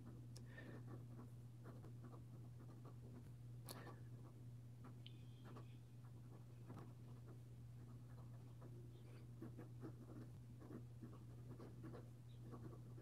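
A Pelikan M200 fountain pen with an extra fine nib writes on paper, giving very faint, close scratchy strokes and ticks in an irregular rhythm over a steady low hum.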